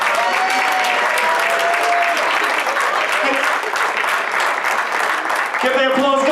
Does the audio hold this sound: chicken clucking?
no